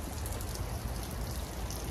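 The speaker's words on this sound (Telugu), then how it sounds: "వర్షం పడుతుంది ఇప్పుడేమో" Steady rain falls outdoors during a first snowfall in the USA, a dense and continuous hiss that stays even throughout with no voices.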